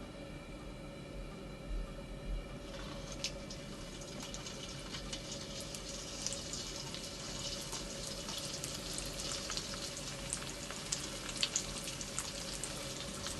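Chicken spring rolls dropped into hot oil on a full flame, a steady crackling sizzle that builds after the first few seconds and continues with sharp pops, close and fairly quiet, without talk.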